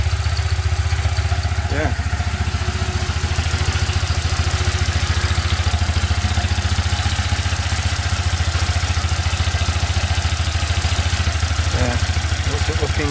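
A BMW R1200C motorcycle engine ticks over at idle after a fuel pump and filter replacement, a steady close low throb with faint mechanical clatter, while a voice speaks briefly.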